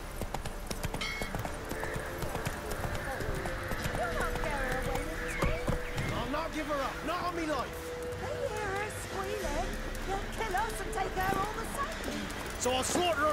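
Hooves of the horse Roach clopping steadily along in The Witcher 3, a rhythmic clatter running throughout beneath voices talking, with occasional other game sounds.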